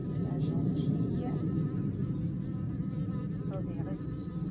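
Honeybees swarm around an opened Langstroth nucleus hive, filling the air with a steady, dense, close buzz that holds throughout, with faint handling clicks.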